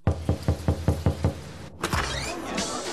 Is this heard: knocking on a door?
yes